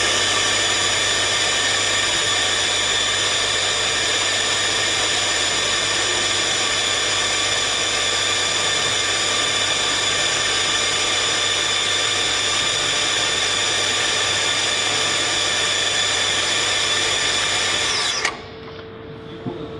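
A METALEX 65A pipe bending machine runs steadily at close range, a loud continuous motorized whine with a low hum underneath, holding level for most of the stretch before cutting off abruptly near the end.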